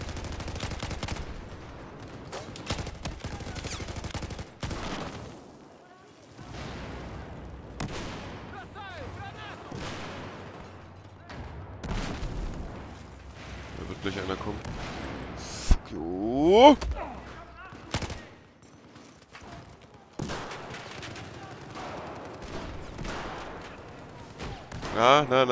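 MG4 machine gun fire in Battlefield 4 multiplayer on the Metro map: repeated bursts and scattered shots of varying loudness, mixed with other battle noise, while someone talks over much of it.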